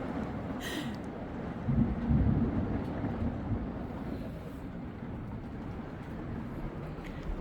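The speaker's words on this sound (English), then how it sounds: "This video will be called A Severe Storm in a Tiny House." A severe thunderstorm with heavy rain pounds around a tiny house. A low, rumbling roar swells near the two-second mark over a constant wash of rain, loud and close, with no one speaking.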